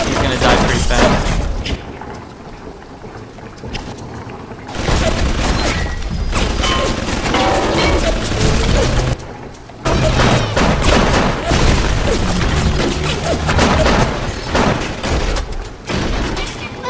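Two automated turrets in a video game fire at an enemy, producing dense, loud bursts of rapid shots and booms that run nearly continuously, easing briefly before resuming at full intensity.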